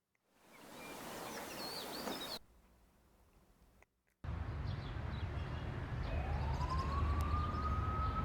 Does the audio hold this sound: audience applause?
no